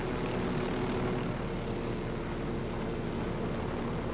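Aircraft flying across the Bolivian wildlands in the video game Ghost Recon Wildlands, a steady, loud engine drone and broadband roar that holds level throughout with no talk over it.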